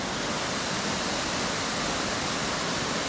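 Stichill waterfall rushes in a steady, dense roar of falling water, continuous and even from start to finish, with no other sounds standing out.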